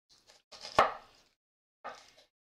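A knife cuts through an onion into long strands on a cutting board, giving a few close, crisp chops with one sharp knock against the board, then a pause and one more cut.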